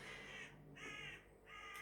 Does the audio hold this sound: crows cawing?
yes